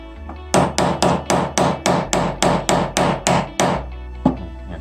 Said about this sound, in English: Peter, when you hammer, don't hit like this. Hit flat on the nail.